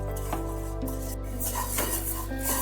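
Banana flower lightly frying in a pan, with a steady low sizzle and repeated scraping and clinking of a utensil stirring against the metal pan, close and continuous.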